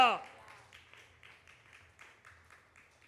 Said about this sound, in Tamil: நல்ல கைத்தட்டல் அல்லேலூயா.